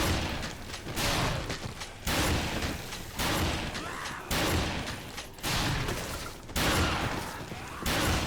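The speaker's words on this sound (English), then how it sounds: "Could shoot zombies with my endless supply of shotguns" Shotgun blasts aimed at zombies in Dead Rising, heavy booming shots roughly once a second in a regular rhythm, loud and close with busy game noise between them.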